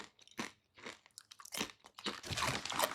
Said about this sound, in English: They have a good crunch.